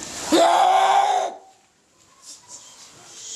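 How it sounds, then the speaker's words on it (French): A cartoon monster's fourth head lets out a loud, strained scream lasting about a second, then falls away to quiet background with faint, scattered high sounds. "sa quatrième tête pousse des cris et fait beaucoup de bruit"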